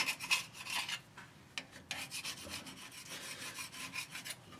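A hand scraper rasps gasket material off the metal housing of a 2016 Ford E-450 motorhome rear differential, a close, steady series of rough scraping strokes.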